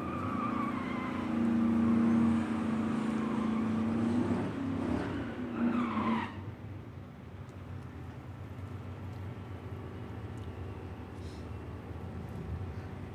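A 1953 Chevy drag car with an LS engine launches hard at a drag strip, a loud roaring engine and tire noise for several seconds that cuts off abruptly and leaves quieter distant track ambience.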